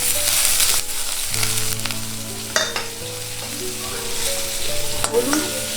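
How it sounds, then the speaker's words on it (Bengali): Onions fry loudly in a pan with curry leaves and turmeric, a continuous close hiss with occasional stirring scrapes and faint tones in the background. "আর পেঁয়াজ একসাথে ভাজা হবে"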